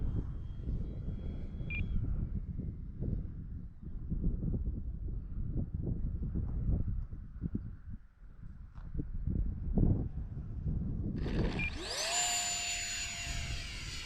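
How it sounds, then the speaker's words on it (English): Habu STS radio-controlled jet flying overhead, a rumbling whoosh of the ducted-fan engine that swells and fades, with a sharper whine sweeping past near the end. "Good flying plane though, man, good flying plane."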